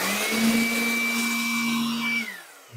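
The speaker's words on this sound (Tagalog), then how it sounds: "itong blower na to sa pag-blower ng aking chinelas dito sa sahig" A 700-watt electric air blower runs steadily at close range, blowing slippers across a floor with a loud, continuous whine and rushing air before winding down near the end.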